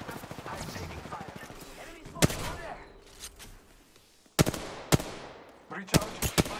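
Gunfire in Apex Legends comes as sharp, separate shots and short bursts. A few sit early, then clustered cracks land near the end over a background of game ambience and a talking voice.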